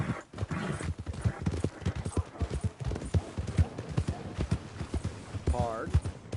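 Horse hooves clip-clopping at a steady walking rhythm in Red Dead Redemption 2, with a short neigh near the end, heard under frequent male dialogue.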